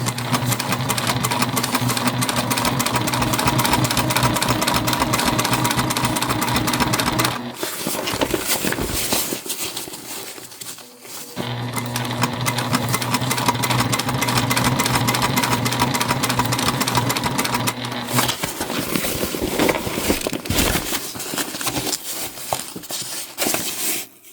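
A Juki TL2 sewing machine stitches a drawstring backpack in long, fast, continuous runs with a dense rapid chatter, broken by a short pause and a few slower stitches between the runs.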